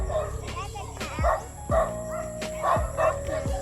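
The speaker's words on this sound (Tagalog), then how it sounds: "Ayun yung mga aso sa likod ko." Multiple dogs bark in repeated, evenly spaced yaps, with a steady hum in the background and voices talking softly in the background.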